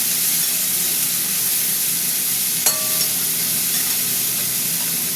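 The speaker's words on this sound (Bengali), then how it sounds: "পেঁয়াজের সাথে আমি একটু আলুটা ভাজবো" Potato fries with onion in a hot pan, giving a loud, steady sizzle and hiss that runs continuously, broken once by a brief clink of a utensil.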